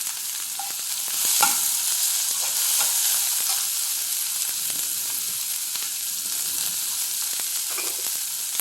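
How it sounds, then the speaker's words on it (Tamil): Garlic, onion and green chili fry in hot oil for a shark fish curry, a steady close sizzle running throughout with occasional stirring scrapes and clicks. "பூண்டு எண்ணெயில் பொரிட்டோம். நெக்ஸ்ட்டு வெங்காயம், பச்சை மிளகாய்."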